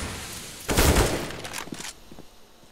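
Gunfire in the video game Counter-Strike: Global Offensive during a competitive league match, a loud burst of shots followed by a few fainter cracks, with no talk over it.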